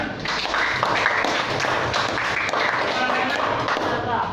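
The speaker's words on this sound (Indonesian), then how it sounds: "Tepuk tangan." Classroom of students clapping together in a dense, steady burst of applause that fills the room at close range, with some voices mixed in.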